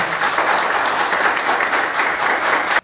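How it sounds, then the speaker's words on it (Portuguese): Dense applause from an audience at a town council swearing-in ceremony for a mayor and vice-mayor, steady full clapping that cuts off abruptly at the end. "Peço uma salva de palmas."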